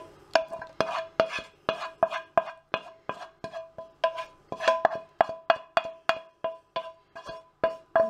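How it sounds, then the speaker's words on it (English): A spoon works mashed potato and vegetables together in a bowl, making about twenty rhythmic, ringing clinks against the bowl's side at a steady pace, close and clear, with no talking. "I do it this way just because I find it easier to mix it all together in a bowl"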